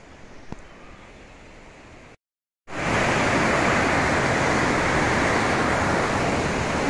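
Water rushes loudly through Neptune's grotto at Tivoli, a dense, steady roar that swells in after a short gap of silence and fills the cave close up.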